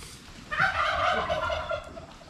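A chicken calls with a short burst of rapid, throaty gobbling notes, close and fairly loud, with no talking.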